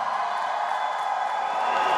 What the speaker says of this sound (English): Let's give her one more round of applause